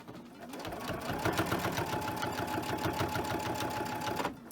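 Sewing machine top stitching through thick layers of a sleep mask, a steady mid-level motor hum with fast rhythmic needle clatter running continuously for about four seconds before cutting off.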